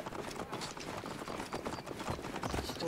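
Horse hooves galloping in the Assassin's Creed Origins video game, a rapid steady clip-clop rhythm running throughout at close range, mixed with dense game ambience and no talk.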